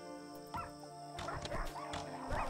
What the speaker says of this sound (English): Oh, these dogs.